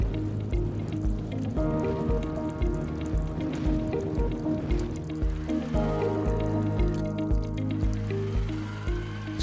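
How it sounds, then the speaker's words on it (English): Water is injected into the chamber of a Celitron ISS 500L autoclave with an integrated shredder. A continuous tonal machine hum runs throughout, with trickling, gurgling liquid and small drips layered over it. "and water is injected into the chamber."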